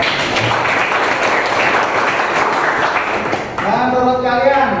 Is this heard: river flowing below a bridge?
no